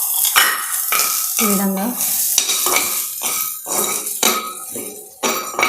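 Cashews and raisins fry with pepper in a pan for a festival prasadam dish, giving a busy sizzle with stirring and metal utensil clatter while someone talks over it.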